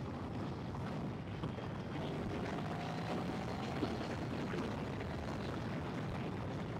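A streetfighter motorcycle engine throttled on its first proper ride, a steady loud roar with heavy wind rush over the microphone throughout.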